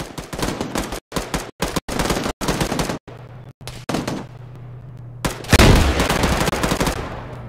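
Loud, close automatic gunfire in the military simulation game ARMA during a cooperative squad mission, with rapid bursts broken by short pauses, then a longer heavy burst with a booming impact.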